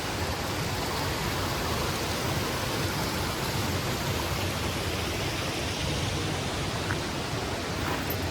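Saitabat waterfall and its stream in Bursa pour steadily, a broad continuous rush of falling and flowing water with no pauses, even in level from start to finish.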